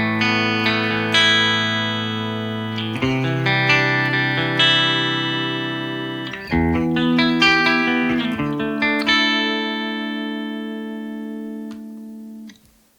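An Ibanez RG470DX electric guitar on its bridge pickup plays a clean tone, with ringing chords and single notes picked in phrases that sustain and slowly fade at the end, loud and up close with no talking.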